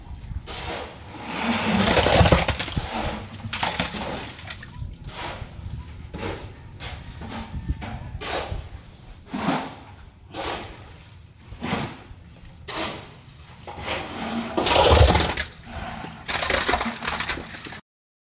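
Wet, gritty scraping and crunching with repeated thuds and clattering bursts, irregular and close, as concrete is poured and worked at a townhouse construction site.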